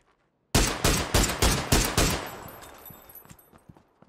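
A rapid burst of about six loud gunshots rings out in a PUBG match, followed by fainter scattered shots in the distance, with no talk over them.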